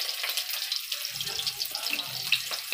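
Water drains and splashes from cooked jackfruit pieces in a home kitchen, a continuous close trickling pour with soft sloshing underneath, no talk.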